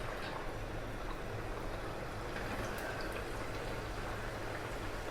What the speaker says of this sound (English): Now I am directly frying it in the oil.